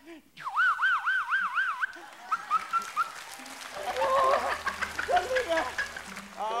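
A voice mimics a wailing car alarm siren with rising and falling pitch sweeps, followed by more vocal siren-like warbles amid background chatter.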